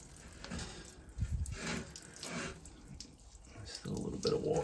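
Leftover water runs and trickles out of a removed boiler's hot water coil. The flow is faint and uneven, with a few louder splashy bursts.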